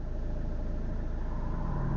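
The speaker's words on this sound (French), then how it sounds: "Oh, une petite Subaru." Engine of a small Subaru car passing close by, a steady mid-pitched motor drone with road noise that holds level throughout, no voices.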